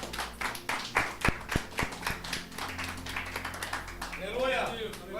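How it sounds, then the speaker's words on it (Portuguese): Church congregation at an Assembleia de Deus service applauding while sitting down, scattered claps and taps that rise and fall in loose rhythm, fairly soft, with voices talking over them. "Senta aplaudindo o Santo Deus."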